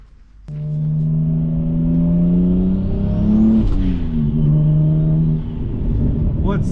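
A single-turbo BMW 135i fitted with a Tial wastegate starts a loud, close engine drone while driving, the tone rising steadily, dipping, then pulling up again.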